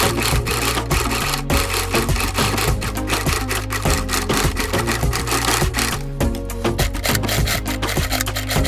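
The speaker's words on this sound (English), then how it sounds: "stitch and back stitch on each loop so that it's secured and it doesn't rip apart" A sewing machine runs loud and close, stitching and back-stitching loops of rattail satin cord for a wedding dress bustier, a continuous rapid mechanical chatter with a brief dip midway and no talk.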